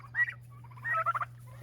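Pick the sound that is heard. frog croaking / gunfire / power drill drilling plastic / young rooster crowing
young rooster crowing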